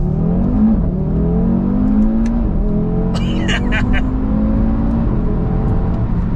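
A tuned Audi RS3 engine revs hard and climbs through the gears at full throttle, loud and close, with a brief whoosh and clatter partway through.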